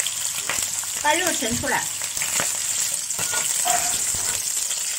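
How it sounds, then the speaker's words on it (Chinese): Pork belly pan-frying in hot oil gives a steady, dense sizzle with crackling spatter throughout, and a voice speaks briefly over it. "肉在煎的过程中还会出油"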